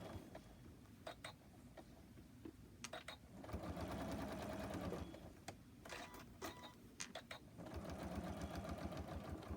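A sewing machine stitches a silicone trivet in several short, rapid bursts separated by pauses, each run a dense mechanical chatter, followed by a longer continuous stretch near the end.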